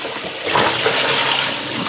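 Water running steadily while fresh herbs are rinsed for a large batch of Persian ash soup, a loud continuous gushing and splashing that swells slightly midway, close up with no voices.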